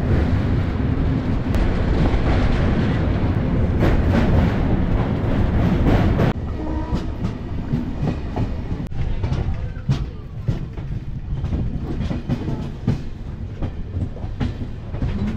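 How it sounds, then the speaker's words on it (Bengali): A passenger train pulls into Kharagpur station, its wheels rumbling loudly over the rails with a steady clickety-clack for the first few seconds, then the running noise eases and softens as it slows at the platform. "ট্রেন আমাদের ঢুকছে খড়গপুর স্টেশনে।"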